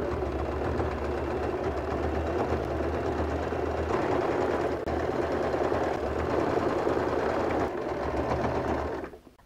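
Close, loud and nearly continuous whirring and rapid stitching comes from a sewing machine edge-stitching a zipper into a recycled jeans bag, with a couple of short dips in pace before the motor stops at the end.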